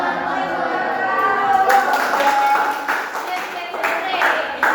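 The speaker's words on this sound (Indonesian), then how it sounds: "Iya, tepuk tangan untuk kelompok." Classroom clapping for a student group after their presentation at a teaching practice session, a loose patter of hands building after the first second and continuing steadily under voices talking.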